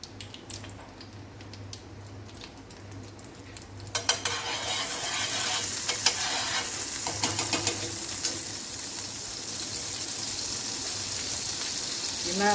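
Butter and oil sizzle in a pan as gravy for paneer makhani rice begins. A steady, close frying hiss starts partway through, with faint utensil clinks over it.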